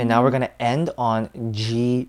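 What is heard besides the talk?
No everyday noises stand out.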